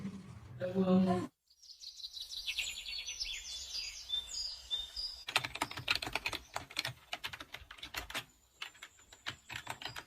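Quiet room tone gives way to rapid, uneven typing clatter that continues steadily to the end, with faint chirps in the background.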